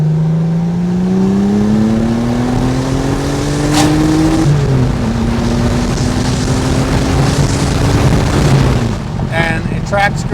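A 1991 Porsche 964 C2 Turbo launches hard in second gear, its engine note rising loudly and steadily, dipping briefly at a shift, then climbing again, heard from inside the cabin.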